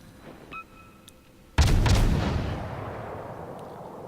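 Destroyer guns fire in a naval video game as one sudden loud boom that rolls away into a long fading rumble, with faint game tones heard just before it.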